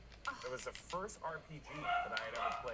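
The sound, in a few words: dog barking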